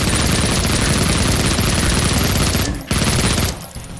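Dense rapid gunfire from dual-wielded akimbo weapons in the shooter Project Warlock, a loud continuous fusillade that barely pauses, breaks off briefly near the end, then trails away.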